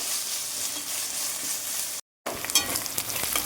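Ginger and garlic sautéing in a pan while being stirred for a prawn masala gravy, a steady loud sizzle that breaks off for a moment, then returns with scattered scraping and stirring clicks.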